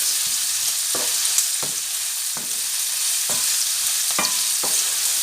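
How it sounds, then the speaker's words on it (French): Onions frying in a pan for a Ndakala dish with spinach give a constant bright sizzle, broken by regular stirring scrapes every second or so. "à ce stade, on fait cuire les oignons"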